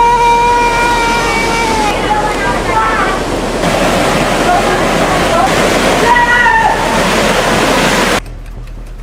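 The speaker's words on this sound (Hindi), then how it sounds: "नाले का पानी काफी तेज रफ्तार से गंगा नदी में समा रहा है" Drain water pours fast into the Ganges river with a steady, loud roaring rush that continues throughout, while voices speak over it before the sound cuts off near the end.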